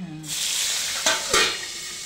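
Green chilies dropped into hot oil with asafoetida flare into a loud, close sizzle, with two quick spoon scrapes partway through before the frying settles into a steady crackle.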